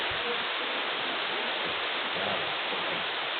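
Steady broadband rush of Benang Kelambu waterfall at Stokel in East Lombok, continuous and fairly close, with faint low rumbles and no clear talk.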